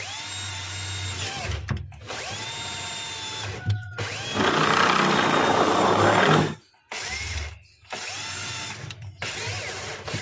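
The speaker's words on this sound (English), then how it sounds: "Now I will drill holes in the evaporator to fit the defrost heater at the back of the evaporator." A power drill bores holes into a refrigerator evaporator plate for fitting a defrost heater, with loud whining bursts that rise and stop, one long grinding stretch and short pauses between runs.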